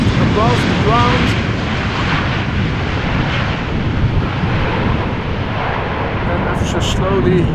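A large aircraft approaching Amsterdam Schiphol Airport in gusty crosswind, its engines a broad steady roar filling the whole stretch, loud and close, with a commentator talking over the noise.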